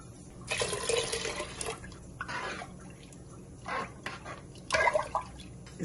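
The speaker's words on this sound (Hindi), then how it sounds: "पानी डालेंगे।" Water pours into a pot of soaked lentils for haleem in several short, splashing bursts with pauses between, fairly close and moderately loud.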